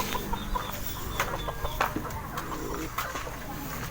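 Caged breeding birds keep up a steady, close stream of clucking, cooing chatter, with short calls overlapping throughout and no voices.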